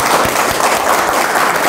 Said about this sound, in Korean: 그래서 박수 한번.